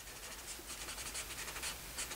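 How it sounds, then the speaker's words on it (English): A coloring tool rasps across paper in quick, irregular strokes, a soft close scratching that rises in little bursts, faint and steady with no talk. "Can you hear that scraping across the paper?"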